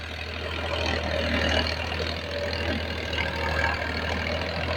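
A 2025 Farmtrac 60 tractor engine runs steadily nearby in a Punjab village, a continuous low diesel rumble with a faint background hiss and no speech.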